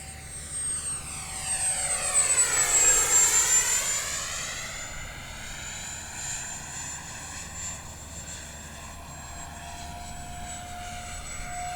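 An E-Flite Viper 64mm electric ducted-fan model jet with landing gear down flies past, its high whine rising as it nears and then sweeping lower as it climbs away, loud at first, then steady and fainter.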